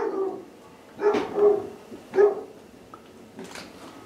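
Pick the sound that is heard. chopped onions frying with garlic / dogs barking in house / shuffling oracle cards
dogs barking in house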